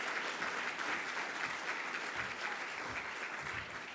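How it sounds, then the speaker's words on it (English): An audience at an engineering reception applauds, a dense, sustained clapping from a sizeable crowd that holds steady for several seconds before beginning to taper off. "Let's have one more round of applause for the CEC and all the work they've done."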